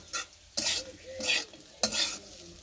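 A spatula scrapes and tosses fried bitter gourd and potato in a pan, in three or four distinct close strokes over a soft sizzle, with short pauses between them.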